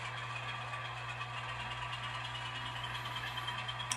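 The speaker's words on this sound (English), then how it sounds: "So the engine revs before it starts moving." A model train locomotive's engine sound plays as a steady, low mechanical drone with a constant hum, fairly faint and without talk.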